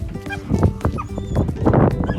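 A dog whimpers and yips in excited bursts during a reunion with its family, close and fairly loud, with voices and bustle mixed in.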